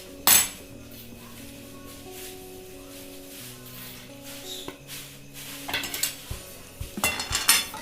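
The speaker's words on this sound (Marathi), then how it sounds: "मिक्स करून घ्यायचंय" Potato samosa filling with fresh coriander being stirred and mixed in a pan, a few clinks of spoon on metal and soft scraping, with sharper knocks near the start and toward the end.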